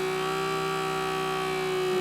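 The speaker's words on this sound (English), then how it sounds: "Why does that pump sound like it's dying?" Self-priming water pump running dry with no water reaching the hose, giving a steady, strained whir with a strong constant hum throughout, close and continuous with no talk.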